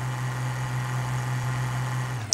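A tractor engine idles steadily in Farming Simulator 2013, a low, even hum with a faint pulsing rhythm, ending with a short click.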